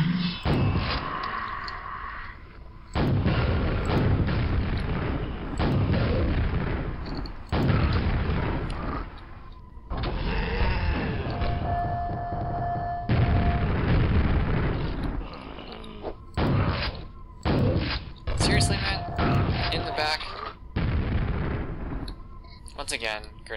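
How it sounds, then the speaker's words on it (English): Grenade explosions in the first-person shooter Quake, a string of heavy booming blasts in bursts separated by brief gaps, loud and close, mixed with game effects and mechanical noises. "Once again, grenades."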